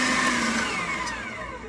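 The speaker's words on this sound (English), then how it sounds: "So I've got the grinder running" An electric meat grinder runs on pork fat, a brief, steady motorized whir with a rising whine, close and alone.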